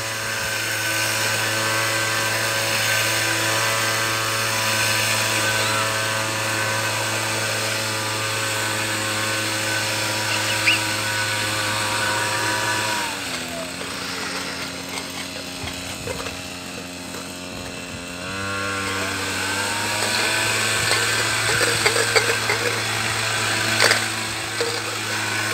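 A motorized tea leaf plucking machine runs in a tea garden with a loud, steady engine drone and whine. The pitch drops and roughens for a few seconds midway, then returns to its earlier steady hum.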